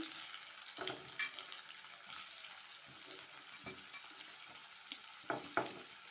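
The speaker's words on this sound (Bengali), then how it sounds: "ওই তেলেই এই যে একটু গোটা জিরে দিয়ে দিলাম প্রথমে। দিয়ে এই যে পেঁয়াজ কুচি," Whole cumin seeds and chopped onion frying in oil in the pan after prawns were removed, a faint steady sizzle with a few soft stirring knocks and scrapes, no voices.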